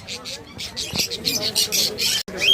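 Java sparrows in a bird market cage, a busy run of sharp repeated chirps and squawks, close and loud, with people talking in the background.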